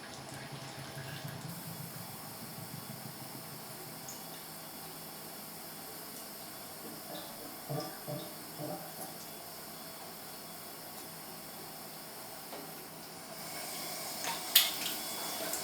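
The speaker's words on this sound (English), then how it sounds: "So now we see that water is coming out" Tap water flowing into the condenser of a copper still, producing a faint steady hiss and trickle throughout with a few soft knocks and a brief clatter near the end.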